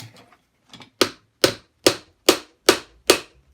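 Six sharp, evenly spaced metallic taps on the shaft of a Brook three-phase motor from a Harrison 11 lathe, loud and close, preceded by a few faint knocks.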